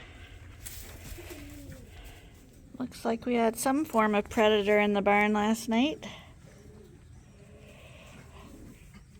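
Pigeons coo in a sheep barn near a Dorset ram pen: a pulsing, wavering call lasts about three seconds in the middle, while a person talks before and after it.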